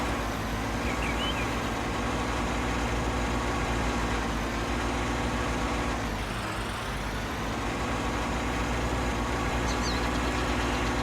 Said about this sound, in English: I'm going to jump out of a moving tractor